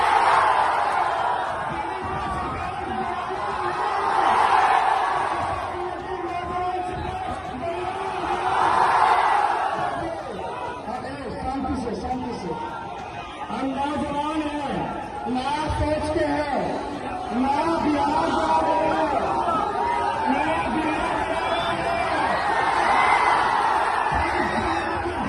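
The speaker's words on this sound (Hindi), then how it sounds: "तेजस्वी जहां जा रहे हैं जबरदस्त भीड़ जुट रही है।" A large crowd cheers and shouts at a Tejashwi Yadav election rally in Bihar, with loud, dense roaring that swells in waves and many voices calling out throughout.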